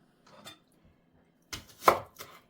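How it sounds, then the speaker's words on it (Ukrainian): A knife chops an onion into small squares on a board, giving a few sharp, close knocks spaced apart, the last strokes louder and quicker, with quiet pauses between them. "А тим часом, поки маринуються наші синенькі, ми ріжемо з вами цибулю"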